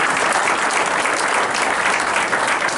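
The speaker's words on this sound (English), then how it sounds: "I want to give them a hand of applause." A room full of people gives a steady, loud round of clapping for town commissioners at a public meeting, the sound even and unbroken throughout.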